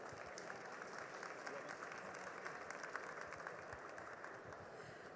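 Audience applause at a business summit during Hannover Messe 2023, a dense, steady clapping from a large crowd that continues evenly throughout.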